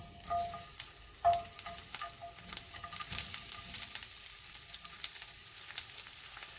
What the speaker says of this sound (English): Start to saute the onions.